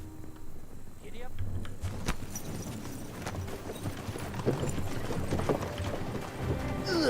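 Horse hooves clip-clop steadily while riding in Kingdom Come: Deliverance II, a continuous loud rhythm of hoofbeats close by with a voice talking over them.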